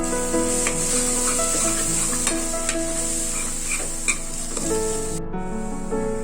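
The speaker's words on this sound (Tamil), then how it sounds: "இப்போ எல்லாத்தையும் சேர்த்து நல்லா மிக்ஸ் பண்ணிடலாம்." Spices are stirred in a sizzling pan for vegetable biryani, a steady loud frying hiss with faint scraping of the spoon throughout.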